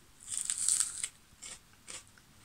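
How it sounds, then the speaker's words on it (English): Crunchy bites into crispy homemade tortilla nachos, one longer close crackling crunch followed by two shorter crunches, with no talking. "Yeah, it actually feels as hard and crispy as nachos."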